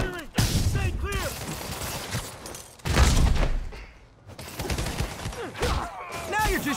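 Enemy gunfire in Marvel's Spider-Man during a warehouse fight: bursts of shots and thuds come in waves over a busy mix of game sounds, with voices calling out between volleys.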